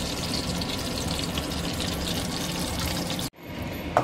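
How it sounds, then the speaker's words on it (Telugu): Cooking oil poured into a pressure cooker for an anapakaya and chicken curry, a steady hissing pour lasting a few seconds before stopping abruptly, followed by faint kitchen noise. "మనం ఇప్పుడు కుక్కర్లో చేసుకుంటున్నామండి కర్రీని. చూడండి అండి, మా ఆయిల్ వేస్తాం"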